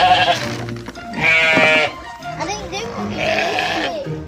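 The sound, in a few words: sheep bleating in farmyard under barn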